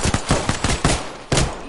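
Gunfire in Apex Legends crackles in quick, loud bursts of close shots, with a short gap before a final burst.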